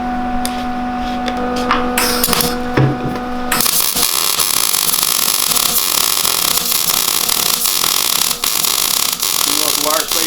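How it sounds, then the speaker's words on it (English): A welder runs during welding on a front-end build, with a loud, continuous crackling hiss starting a few seconds in. Talk and hum come before it begins. "We turn that welder on and gas for me, sir."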